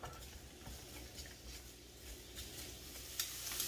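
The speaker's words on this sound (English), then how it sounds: "It's always funny when I'm sauteing onions, see how much it looks." Chopped onions sauté in olive oil in a pan, giving a faint, steady sizzle with soft crackles and an occasional light stirring sound, heard quietly with no voice.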